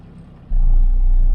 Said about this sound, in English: There, it just pulls off. No throttle.